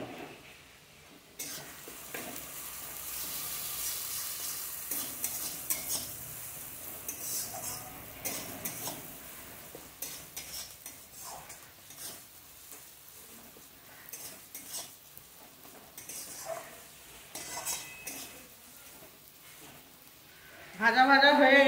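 Onions frying in a pan for a Bengali gurjaoli fish curry, a soft steady sizzle with clinks and scrapes of a spoon stirring against the pan, ending in a louder clatter.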